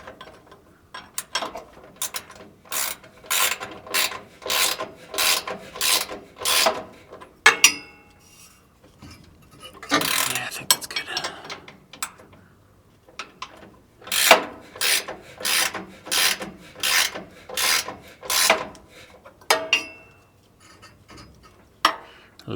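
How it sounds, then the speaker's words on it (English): A Milwaukee impact wrench tightens a steering part on a 1946 Chevy truck, firing in repeated loud bursts of rapid hammering rattles, with short pauses between runs and a few separate clanks. "trusty Milwaukee impact wrench."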